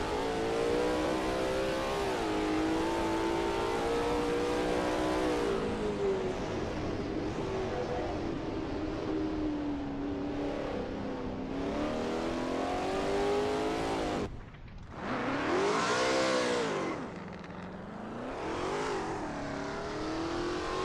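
A Lola T70 MkII Spyder race car's engine howls steadily at high revs around Imola in a racing game, pitch rising through gears, dipping briefly with a sharp drop before surging again, loud and continuous with no voices.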